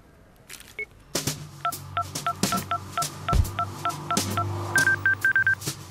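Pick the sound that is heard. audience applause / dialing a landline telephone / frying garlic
dialing a landline telephone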